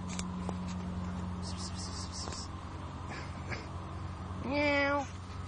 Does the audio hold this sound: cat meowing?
yes